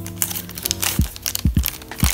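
The small plastic bag holding a Game Boy Advance Breath of Fire II cartridge crinkles and crackles up close, with a few sharp thumps of handling mixed in over about two seconds.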